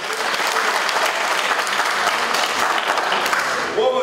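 Loud, sustained applause from an audience at a municipal council session, dense steady clapping filling the whole stretch without a break.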